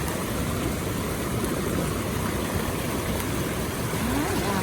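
Steady rushing water from a mountain stream and waterfall, like a stream flowing over rocks, a constant broadband wash with no breaks.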